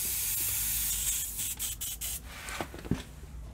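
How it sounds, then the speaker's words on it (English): An airbrush being cleaned out with bursts of hissing spray: a steady spray at first, then several short sharp blasts and a few clicks near the end, close and fairly quiet. "I'm going to clean my airbrush out"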